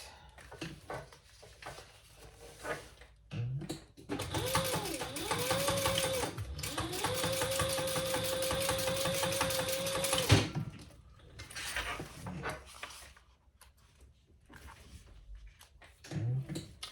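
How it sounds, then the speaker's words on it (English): A sewing machine top-stitches a sling crossbody bag, running in one loud, steady six-second burst after shorter starts and stops, with quiet handling noises in the pauses. "I'm going to turn that and top stitch"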